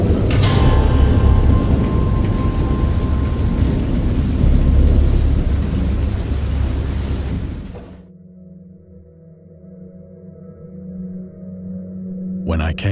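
Thunderstorm with heavy rain in the video game Dagon, a dense, loud roar of downpour and rumbling thunder for about eight seconds, then cutting to a quiet low hum with faint distant rumble.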